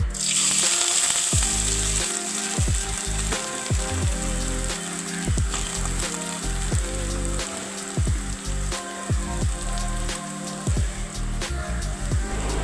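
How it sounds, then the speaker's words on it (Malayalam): Leftover idiyappam fries loudly in hot ghee, a dense crackling sizzle broken by regular scraping strokes as it is stirred, no one talking. "നമ്മൾ ചേർത്ത് കൊടുത്ത ഇടിയപ്പം ഒരു ഗോൾഡൻ കളർ ആവുന്ന വരെ ഇളക്കി കൊടുക്കുക"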